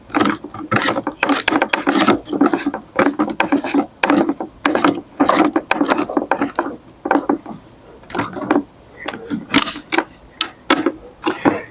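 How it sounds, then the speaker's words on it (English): A skate tool turns and tightens the hardware bolts holding a handle onto a skateboard, giving loud, close bursts of rapid ratchet-like clicking that repeat in quick bursts with brief pauses between turns. "use your skate tool, go ahead and just tighten that on."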